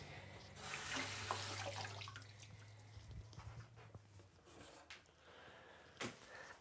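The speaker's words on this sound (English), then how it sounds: "you want to take and rinse these off." Tap water runs over pears being rinsed in a kitchen sink for homemade baby food: a steady splashing flow that starts loud, eases into softer trickling and drips, with a brief knock near the end.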